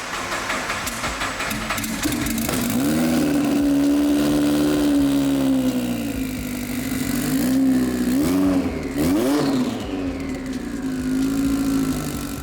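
A modified car engine with a hood-exit exhaust cranks and catches, then revs repeatedly with rising and falling whines, loud and close, over a constant rough idle.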